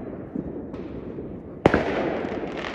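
One firework bangs loudly during outdoor New Year celebrations on a snowy winter night. The sharp blast gives way to a sustained, hissing, crackling rumble over steady ambient noise.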